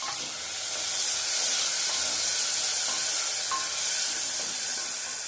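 Two tomatoes frying in oil with shallots, a loud continuous hissing sizzle close up, steady throughout with a couple of faint clicks.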